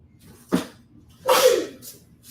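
A brief sharp intake of breath, then one loud sneeze close by in an otherwise quiet room.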